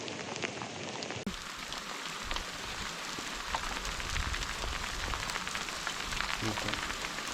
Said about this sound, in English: It went from rain to hail like instantly.